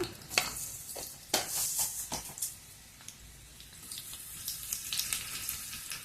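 Garlic pieces, mustard seeds and cumin dropped into hot oil in a pan, crackling and sizzling in irregular bursts with scattered sharp pops and a quieter hiss between, close and fairly soft.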